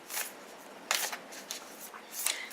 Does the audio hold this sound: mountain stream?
no